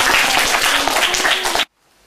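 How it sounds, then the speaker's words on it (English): Loud, dense applause from an audience fills the room for about a second and a half, then cuts off abruptly into near silence. "Give her a round of applause."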